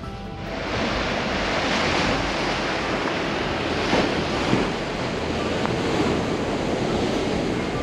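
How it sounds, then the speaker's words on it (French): Strong, icy cold wind roaring steadily across the microphone, a continuous broad rush with occasional gusts, no voices. "avec ce vent glacial, je vous assure que c'est vivifiant"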